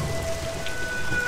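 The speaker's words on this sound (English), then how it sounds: "Ah, it's raining." Steady rain hisses as a soft, even wash of falling water from the video game The Lost Crown, with no voices over it.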